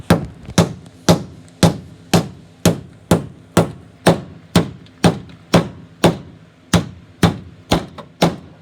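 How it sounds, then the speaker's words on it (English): A hammer strikes a car body panel from the inside on a wrecked Pontiac in a steady, even rhythm, about two blows per second, each hit loud and sharp with a short ringing decay. "Get that hammer on it from the inside"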